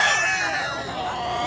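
Roosters and chickens at a gamecock market in Tabunok, Talisay, Cebu. Loud, dense squawking and crowing overlap in a busy, noisy crowd for a brief moment.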